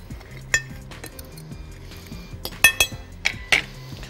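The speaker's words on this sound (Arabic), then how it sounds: "شوكة برضو نقلب ميكس الدقيق ده مع بعض كويس قوي." A fork stirs a flour mixture in a bowl, producing a run of light clinks and scrapes against the dish, several sharp taps clustered toward the end.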